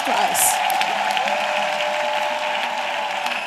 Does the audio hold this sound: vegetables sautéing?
no